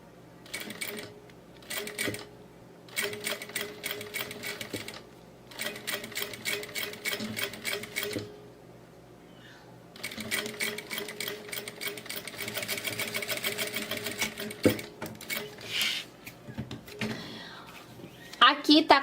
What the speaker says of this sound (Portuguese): E vou passar uma costurinha aqui, prendendo tudo.